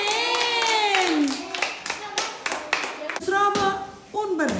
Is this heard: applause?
yes